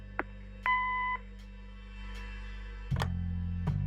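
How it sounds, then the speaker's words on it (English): A single electronic answering-machine beep in the video game Kathy Rain sounds for about half a second, a clean steady tone over a low background hum with a few faint clicks around it. "Leave a message after the beep."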